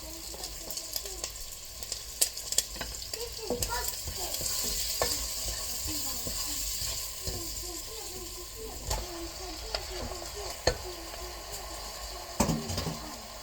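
Meat sizzles in a hot pan while being stirred, a continuous crackling hiss broken by repeated scraping and clicking strokes of the utensil, close-up with no voices.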